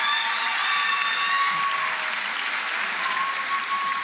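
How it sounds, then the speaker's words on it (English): Steady, sustained audience applause fills a middle school promotion ceremony, a dense even wash of clapping from a large crowd lasting the whole stretch without pause. "Please join me in applauding all of their excellent efforts this year."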